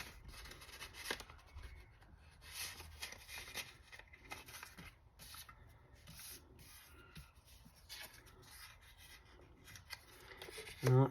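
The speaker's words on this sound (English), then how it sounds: "Now let's go ahead and cut a little bit of this off here." Scissors snip through a small scrap of lace in a sewing setting, giving soft, scratchy cuts and fabric rubbing at close range, spread unevenly through the clip with quiet handling between them.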